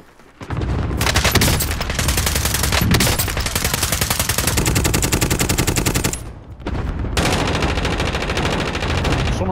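Loud, sustained automatic gunfire from Call of Duty: Modern Warfare, rapid bursts firing almost without pause, a brief lull, then more fire.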